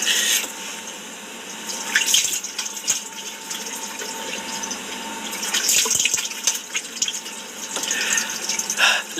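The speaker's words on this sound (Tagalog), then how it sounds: "So maghihilamos po tayo ngayon. Pero sobrang lamig ng tubig dito." Cold water runs from a tap into a sink while someone washes their face, a steady close splash with irregular louder surges as hands break the stream.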